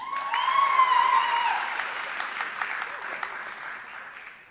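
Audience applause at a college convocation for journalism graduation candidates, a moderate wash of clapping from a large hall, with a speaking voice over the first second or so before the clapping carries on alone and fades.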